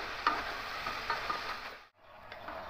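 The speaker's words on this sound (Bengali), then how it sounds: "সবজিগুলো দিয়ে 10 মিনিট একটু এইভাবে খুন্তি দিয়ে নাড়াচাড়া করে নেব।" Vegetables and chicken frying in a little oil hiss steadily while a spatula stirs them, with soft scraping taps over the sizzle and a brief dip to near silence partway through; close, moderate level, no voices.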